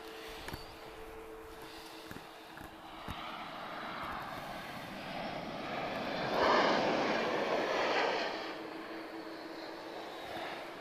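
A distant jet aircraft with CF6 engines roars at Lisbon Airport, swelling gradually to a peak and then slowly receding, with faint outdoor background noise.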